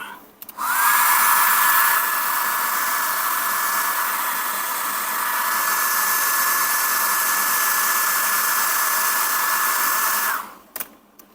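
A hair dryer blows loudly and steadily for about ten seconds, a constant airy whine that switches on and then cuts off.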